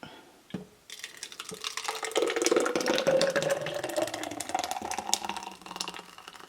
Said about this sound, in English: So now just gonna pour it up.